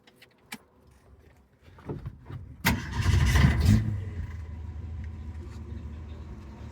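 A 1965 Ford Mustang coupe's six-cylinder engine cranks briefly and catches, then settles into a steady, fairly loud idle heard up close, with a few faint clicks and handling noises before the start.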